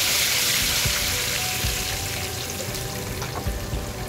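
Cumin seeds and curry leaves sizzle in hot oil for Hyderabadi bagara baingan, a steady close frying hiss with light crackles and no voices.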